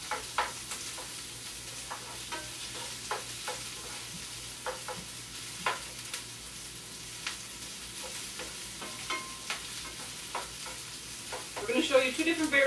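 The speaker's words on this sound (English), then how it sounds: "You want to saute these for a few minutes until they just start to get a little clear." Onions sautéing in a skillet for a stir fry, a soft, close, steady sizzle with regular spatula scrapes and clicks, building to livelier crackling at the end.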